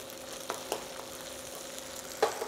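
Ginger garlic paste frying in a pan for a mutton coconut fry, a soft steady sizzle with a few light utensil taps, close but fairly quiet.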